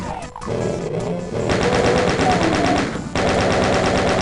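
Rapid automatic gunfire from monsters in the video game Doom, a dense, loud stream of shots with brief crashing bursts, steady and unbroken apart from a short pause, with no voices.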